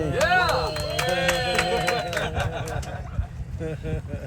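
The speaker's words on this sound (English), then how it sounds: "Round of applause for our adventurous guy." People aboard a pontoon boat on Redfish Lake, Idaho, cheer and whoop with scattered claps mixed in, close and lively at first, then fading to chatter and a few sharper sounds.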